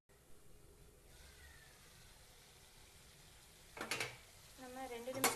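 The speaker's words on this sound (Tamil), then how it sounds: "நம்ம 2 நிமிஷத்துக்கு ஒருக்கா சும்மாவாவது இப்படி கிளறி விடணும், இல்லைன்னா அடி பிடிச்சிக்கும்" Cabbage stir-fry being stirred in a pan: a quiet sizzle underneath, then a couple of clattering scrapes of a spoon against the metal pan, close and brief.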